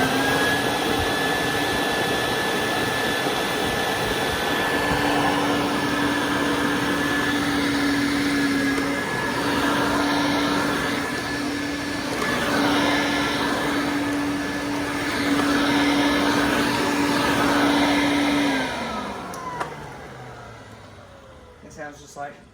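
Quantum X upright vacuum cleaner running steadily and loudly with a constant motor whine for about eighteen seconds, then winding down as it is switched off.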